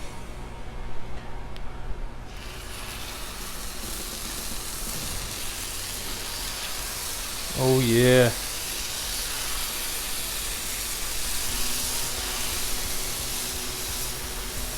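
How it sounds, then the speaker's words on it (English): Chicken drumsticks sizzle on a Blackstone griddle with a steady, broadband hiss throughout, while a person speaks briefly in the middle. "Nice sizzle."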